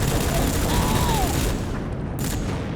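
Rapid gunfire in the PlayStation 2 video game Rogue Trooper, loud bursts of shots over a dense rumbling game soundtrack, with a sweeping whine in the middle and a brief sharp crack near the end.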